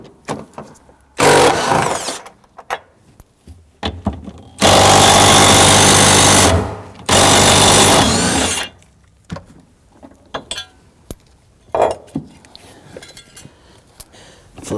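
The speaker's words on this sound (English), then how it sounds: "We're going to use our 15mm socket to loosen and remove these two bolts" Bursts of a loud, rattling impact wrench with a 15mm socket loosening the seatbelt bracket bolts on a 2001-2009 Volvo S60, separated by metallic clinks and handling clatter up close.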